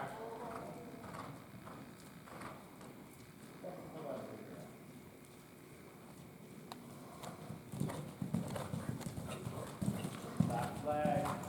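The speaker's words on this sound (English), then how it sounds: "then you can canter kind of nicely through the turn and then come back to walk." A horse's hooves clop along at a walk after cantering, soft irregular thuds on the ground that grow more distinct toward the end, with a person talking throughout.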